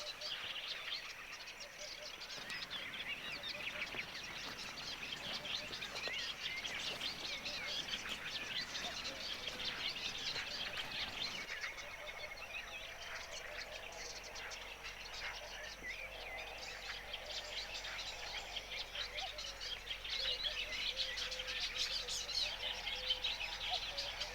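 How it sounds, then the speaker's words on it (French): An Eastern olivaceous warbler sings on and on at a wetland site in Kerkini, Greece, its busy chattering song running steadily at moderate distance alongside other bird calls. "Ici, l'oiseau qui n'arrête pas une minute de chanter, c'est l'Hippolaïs pâle."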